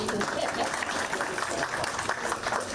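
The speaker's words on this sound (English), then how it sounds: "Good clap." Applause from an audience at a West Virginia Army National Guard award presentation honouring a local optometrist, a moderate continuous wash of clapping with some crowd murmur underneath.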